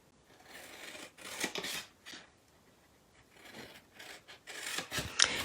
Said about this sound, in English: So over here on the side, I'm going to cut up to the score line on both sides.